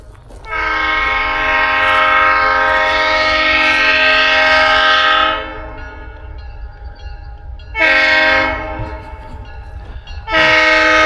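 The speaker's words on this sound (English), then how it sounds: "Well, I don't need to wave because they're already doing the air horn." A loud, sustained train air horn blasts for about five seconds, then sounds again in two shorter bursts, over a steady low rumble of the passing train.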